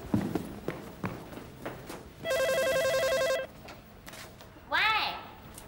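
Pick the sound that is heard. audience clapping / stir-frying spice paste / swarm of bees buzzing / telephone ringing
telephone ringing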